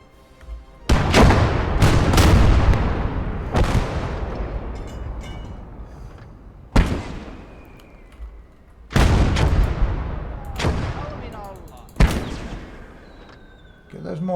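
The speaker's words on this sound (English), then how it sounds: "Get those mortars firing." Mortar rounds firing in the battle video game Motherland, several heavy booming blasts in irregular clusters, some doubled close together, each with a long rumbling decay.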